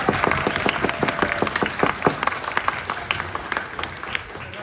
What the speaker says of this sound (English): a round of applause please for those who already got on the bus